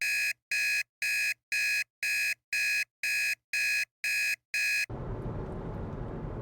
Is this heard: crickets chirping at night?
no